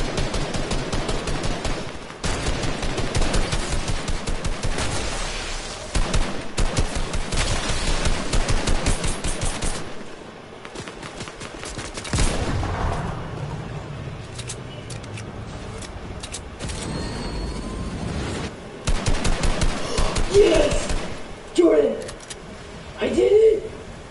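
Fortnite gunfire rattles in rapid automatic bursts and single shots across the stretch, loud and close, with gaps between volleys and people talking over parts of it.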